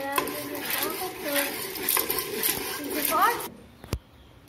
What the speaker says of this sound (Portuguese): Agora mistura todos os ingredientes.